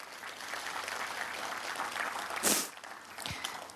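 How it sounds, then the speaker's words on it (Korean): Audience applause at a May 18 Democratic Uprising memorial ceremony in Seoul, a soft, fairly distant steady patter of clapping with a sharp, brief burst of noise midway. "다시 한번 뜨거운 박수 부탁드립니다"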